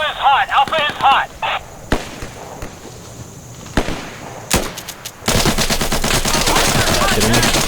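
Rapid gunfire in the tactical shooter game Insurgency: sharp bursts and single cracks early, then a dense, sustained volley of automatic fire near and loud at the end.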